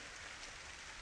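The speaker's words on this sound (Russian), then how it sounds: "Видишь, как дождь херачит" Heavy rain pouring down outdoors during a long hike, a dense, steady hiss with no breaks, fairly faint and distant-sounding, with no voices.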